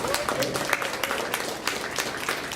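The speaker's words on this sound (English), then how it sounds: "let's give them a round of applause" Audience applause at a student arts festival awards event, a brief burst of scattered clapping that sits close under some background voices and stays moderately loud.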